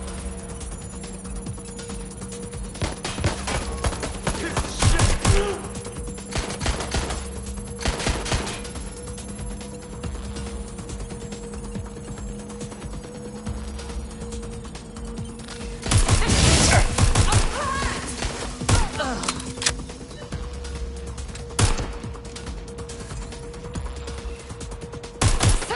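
Rapid bursts of gunfire crackle through a Watch Dogs Legion shootout, with clustered automatic volleys and heavier bursts near the middle and end over a steady background hum.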